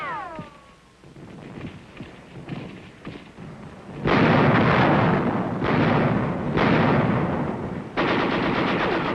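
US heavy artillery firing in combat close behind the front lines, with loud, sustained booming blasts and rumbling gunfire rolling in repeated bursts from about the midpoint onward, following a quieter stretch of distant shots and noise.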